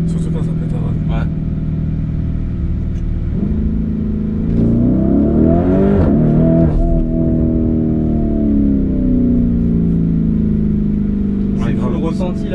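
A Lamborghini Urus engine rumbling and revving from inside the car, a deep loud drone that swells and climbs in pitch midway, with people talking over it.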